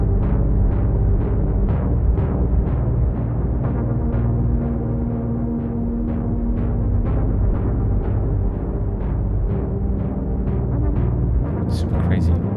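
Elektron Digitone synthesizer running its fourth sequence preset, a steady pulsing pattern of repeated rhythmic notes over a dense sustained tone, loud and continuous, with a brief brighter sweep near the end.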